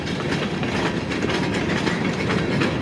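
Railway train cars rolling steadily past at close range, a continuous loud rumble with rhythmic clickety-clack of wheels on rail joints, no voices.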